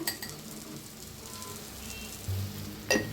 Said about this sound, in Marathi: हळद अर्धा चमचा. तर छान याला भाजून घेऊया.